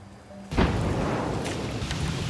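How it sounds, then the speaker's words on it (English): A petroleum products tank in Oklahoma, struck by lightning, explodes with a sudden deep boom that rolls into a sustained rumbling roar for about two seconds, heard from a distance. "this massive explosion literally blew the lid off a huge petroleum products tank in Oklahoma, sent it flying"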